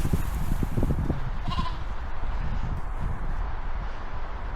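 Ewes and lambs out at grass bleat intermittently, fairly close, over a constant outdoor rustle and murmur.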